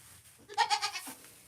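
A single goat on a farm gives one short, wavering bleat, close and clear against a quiet background.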